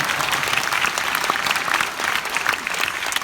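A large audience at a Korean talk concert held at Waseda University in Japan breaks into steady, dense applause, a continuous near wash of clapping lasting throughout without pause.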